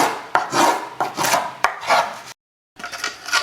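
Hand carving tool scraping the inside of a wooden top for a custom Rosa mandolin, in repeated rough strokes with a short pause, close and fairly loud.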